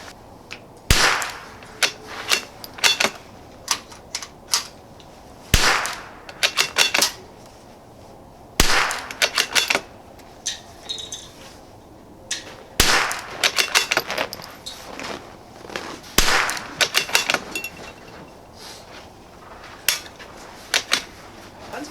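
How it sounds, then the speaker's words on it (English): Savage B22 precision rifle, a .22 caliber bolt gun, fired round after round at a range, each sharp crack standing alone with pauses between, loud and close, with no voices. "let's try 5 more rounds of this because the grouping is pretty decent"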